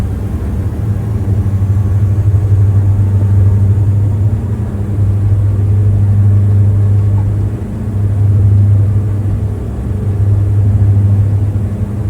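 Twin piston engines of a Diamond DA42 aircraft in a flight simulator run at full power, a loud steady low drone that holds for the full stretch with slight pulsing swells and no talk over it.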